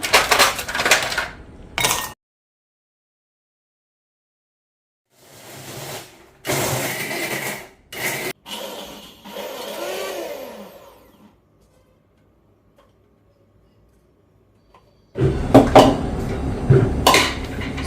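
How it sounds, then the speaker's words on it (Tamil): A kitchen mixer grinder crushes ice cubes in loud harsh bursts of rattling and grinding, stopping and starting several times with silent gaps between the runs. "ஐஸ் கியூப் சேர்த்துட்டு நல்லா க்ரஷ் பண்ணி எடுத்துக்கலாம்."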